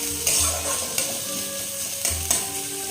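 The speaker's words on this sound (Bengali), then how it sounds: "এবার দেবো কুচনো পেঁয়াজ কুচনো কাঁচা লঙ্কা এবার একটু এটা একটু ভাজা ভাজা হবে" Chopped onion and green chillies sizzle steadily in hot oil, with occasional scraping stirs and a couple of soft clanks from the pan.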